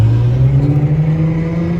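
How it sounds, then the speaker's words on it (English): A car engine revs hard and holds a loud, steady roar with deep rumbling throughout, close up. "I'll give it some gas for you."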